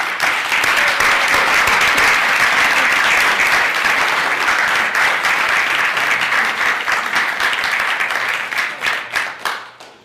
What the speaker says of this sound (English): let's give this gentleman a warm round of applause.